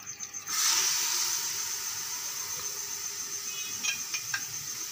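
Minced meat dropped into a hot pan for kachnar keema bursts into a loud, steady sizzle that hisses on and fades slightly, with a few faint crackles near the end.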